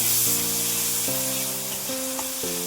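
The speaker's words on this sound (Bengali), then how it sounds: "তারপরে একটুখানি আদা রসুন বাটা, সব দিয়ে ভালো করে নাড়াতে হবে" Ginger garlic paste sizzling in oil in a pan, a steady close hiss lasting a couple of seconds while it is stirred.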